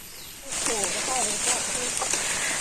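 Rain falls on a rubber plantation, a dense steady hiss that swells in after a quiet start and stays loud and constant while a person talks over it.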